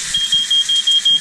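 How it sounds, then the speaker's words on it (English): Smoke alarm going off in a kitchen during cooking: a loud, shrill electronic beeping in quick repeated pulses, close by, with no voices. "Oh, fire alarm! Fire alarm!"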